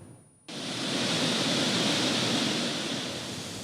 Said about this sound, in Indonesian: air terjun Ponot yang berada di Desa Tangga, Kecamatan Aek-Songsongan, dan air terjun Simonang-Monang di Desa Padang Pulau